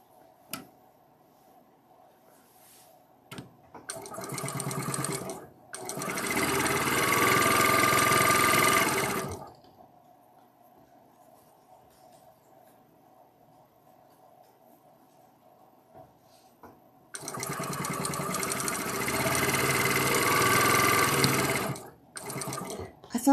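A home sewing machine stitches along a marked line in two loud, steady whirring bursts of several seconds each, separated by a quiet pause with faint background hum.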